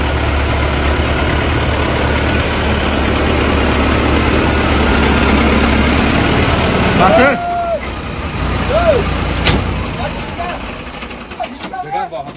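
A tractor engine runs loud and steady at close range in a farm setting, then the rumble drops and turns uneven partway through as voices chatter nearby.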